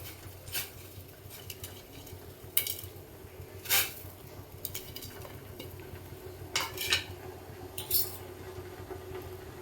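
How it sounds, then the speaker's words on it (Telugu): Noodles are stirred into a pot of salted boiling water while veg noodles are prepared, with scattered metallic clinks and scrapes of a utensil against the pot over a low bubbling hum, close and fairly quiet, with no talk. "ఇప్పుడు బాయిల్ చేసిన వాటర్లో మన నూడిల్స్ వేసుకోవాలి"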